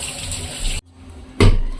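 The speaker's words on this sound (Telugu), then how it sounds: "ఇప్పుడు వీటిలన్నింటిని కడిగేసుకుని అగో చిల్లులున్న జల్లెల్లో వేసుకుందాం." Water splashes over amaranth leaves in a perforated sieve, a loud close rush that stops abruptly, then a quiet pause before another strong gush of running water.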